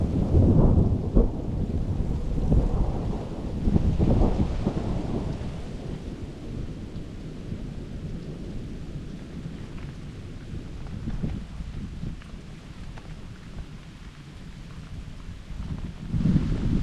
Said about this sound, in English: Bunch of thunder.